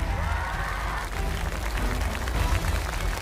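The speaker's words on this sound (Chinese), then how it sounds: "来各位掌声也送给向子龙" An arena crowd at a basketball game applauds in a steady, mid-level wash of clapping that carries on for a few seconds.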